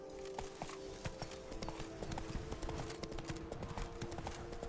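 Roach, Geralt's horse in The Witcher 3, trots with a steady clip-clop of hooves throughout, layered over game music and ambient sound with a faint snort.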